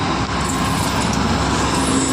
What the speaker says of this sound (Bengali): একদম সমুদ্রের পাশে হচ্ছে রেল লাইন, তো একটা ট্রেন আসতেছে, দেখি।